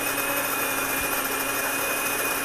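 An electric wheat grinder milling wheat into flour gives a steady, loud, high-pitched mechanical whine and hum, continuous and unbroken with no talking.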